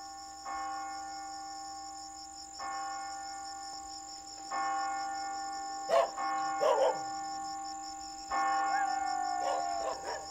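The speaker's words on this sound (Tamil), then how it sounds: "இது நம்ம கருப்பு கோயில் மணி சத்த மாதிரி இல்ல?" A temple bell is struck a few times at spaced intervals, each ring sustaining and fading, while a constant high insect-like drone continues throughout.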